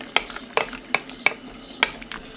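Spoon scraping and stirring melting chocolate in a saucepan, with sharp clinks about every third to half second in a steady rhythm, close and moderately loud, with no talking.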